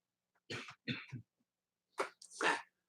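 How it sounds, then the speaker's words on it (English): A person coughs several times, two short bursts, a pause, then two more harsh coughs, close and fairly quiet. "As he coughs, he feels better."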